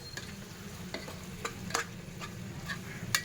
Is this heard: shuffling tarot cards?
no